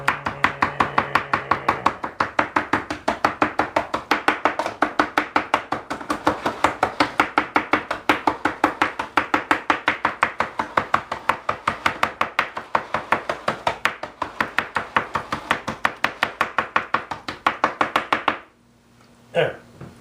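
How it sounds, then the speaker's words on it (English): A knife chops ravioli in a foil pan with rapid, steady knocks close up, lasting many seconds before it stops, and a voice speaks briefly during the chopping. "start chopping up the ravioli"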